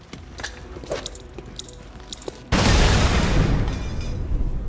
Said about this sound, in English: Turncoat grenade will get these guys shooting each other, even if it's just one of them shooting the other. Grenade out.